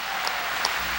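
A congregation bursts into a brief round of applause during a 1992 Sunday worship sermon, a short, dense wash of clapping heard alone.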